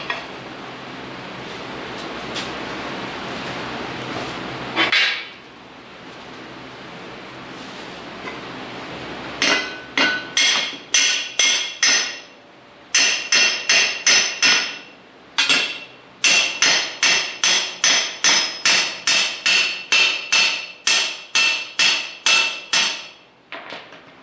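Rapid, repeated hammer blows ringing on metal while building a kinetic log splitter, coming in bursts of sharp clanging strikes after a stretch of noisy scraping.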